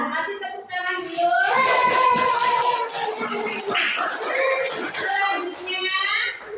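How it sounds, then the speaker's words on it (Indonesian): Classroom applause for a student's group presentation, brief hand clapping under children's chatter and cheering voices that dominate the scene. "kasih tepuk tangan dulu"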